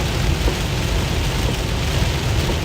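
Steady heavy rain roars and hisses without a break, heard from inside a moving vehicle during a storm chase in the Midwest, with a low road rumble underneath.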